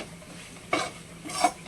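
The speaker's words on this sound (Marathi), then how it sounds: "थोड्या थोड्या वेळात हलवत राहायचं म्हणजे ना चिटकणार नाही." A spoon stirs thick ukadiche modak filling in a pan, giving two short scraping strokes close by over a quiet background.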